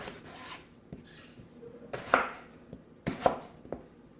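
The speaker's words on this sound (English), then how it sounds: "So we're just going to cut up potatoes and carrots." Knife chopping washed potatoes and carrots into fry-shaped pieces on a cutting board, with several sharp, separate cuts landing at an irregular pace and quieter scraping between them, close up and without talk.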